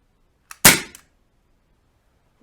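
A single sharp airgun shot fired through a threaded muzzle moderator, a short muted crack preceded by a faint click and followed by a brief mechanical tick, in a quiet studio.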